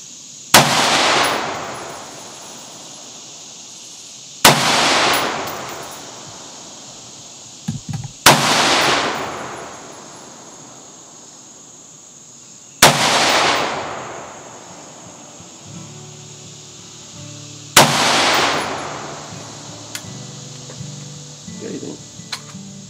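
Five widely spaced, sharp, loud rifle shots from a 5.56x45mm SCR semi-automatic sporting carbine by Ares Defense Systems, each followed by a long ringing echo outdoors, with faint handling noise and low voices between shots.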